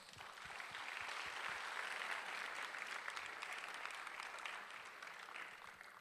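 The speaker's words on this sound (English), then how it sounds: "Let's hear, ladies and gentlemen, a big round of applause to all of our guests." Audience applause for guests at the closing ceremony of the 2019 Seventh Asia-Pacific Urban Forum in Penang, a steady wash of many hands clapping at moderate distance that holds evenly for six seconds without speech.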